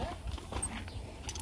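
A horse being hand-fed a carrot, with soft hoof clops and shuffling steps, quiet chewing and handling noises close by, under faint background murmur.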